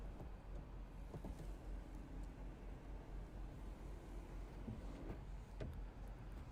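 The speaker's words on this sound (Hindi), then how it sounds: "और ये है वॉइस असिस्टेड इलेक्ट्रिक सनरूफ।" Electric sunroof of a 2023 Tata Nexon.ev Empowered+ Long Range moving, a faint steady motor whir inside the quiet cabin, continuous throughout with no talk.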